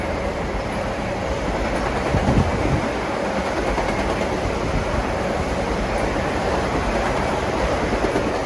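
Danbury commuter train on the New Haven line pulling into track 4 at Mamaroneck, a steady broad rumble of rolling cars and wheels holding even and fairly close throughout, with no voices.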